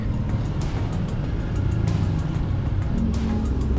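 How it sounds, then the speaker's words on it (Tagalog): Steady, dense road traffic on a service road after rain, with a continuous rumble of car and vehicle engines close by and occasional louder passing swells, no talking. "Traffic dito sa service road."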